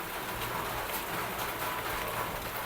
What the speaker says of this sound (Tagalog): ngayon lumakas na lalo ang ulan